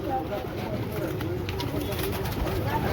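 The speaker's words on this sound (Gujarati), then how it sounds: "ખાલી કબૂતર ની ક્વોલિટી ચેક કરો." Border-breed pigeons, a Punjabi type kept in a flock for sale, coo in low repeated, throaty calls close by while people talk over the birds.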